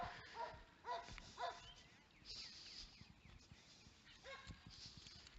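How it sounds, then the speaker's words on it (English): A dog barks several times in quick, sharp yaps, spaced close together at first, then once more after a pause. The barks sound moderately near over faint background noise, and no one speaks. "there's a nasty barking dog"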